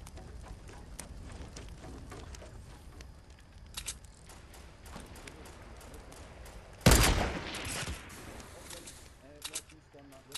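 Gunfire in Fortnite Battle Royale, scattered sharp shots through the clip and a loud burst of rapid fire near the end, with a player talking throughout.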